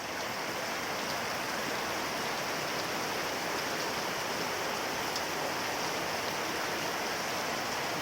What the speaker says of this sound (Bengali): কিভাবে আজকে বৃষ্টি পড়ছে দেখেন